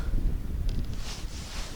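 Strong winter wind buffets the microphone out on the ice during a perch fishing trip, a loud steady low rumble of gusts with no talking.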